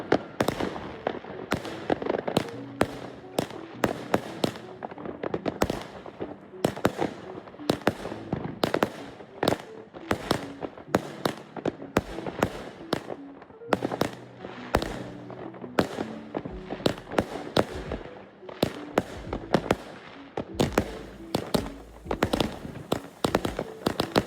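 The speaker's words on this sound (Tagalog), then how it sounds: "At naghahanda para sindihan ang fireworks." New Year fireworks crack and pop outdoors in a long, dense barrage of sharp bangs, some near and loud, others overlapping in rapid irregular bursts throughout.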